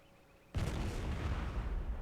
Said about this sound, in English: the cannons are going to make this one difficult.